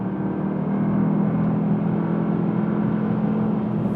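A Porsche Panamera Turbo E-Hybrid in Sport Plus mode cornering at speed, heard as a steady, loud, low cabin drone of engine and road noise without pauses.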